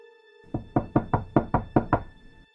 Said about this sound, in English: I was sitting in my armchair, bourbon in hand, when the knock came.